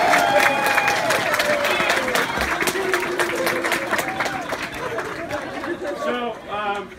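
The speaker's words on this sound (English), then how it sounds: "Let's give the folks standing in the snow a round of" Outdoor crowd standing in the snow applauding at a time capsule opening, loud dense clapping with chatter and some voices mixed in, tapering off toward the end.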